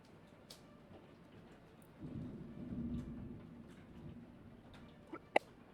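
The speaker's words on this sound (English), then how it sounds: "I heard that lightning." Thunder from a lightning strike rolls in as a low rumble lasting a few seconds, followed by a sharp crack near the end, heard alone without talk.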